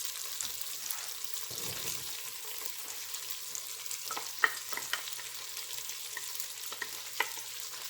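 Onions sautéing with turkey wings in a home kitchen pan give a steady, soft sizzle with light stirring and clinks throughout. The sound is close but fairly quiet, with no talking.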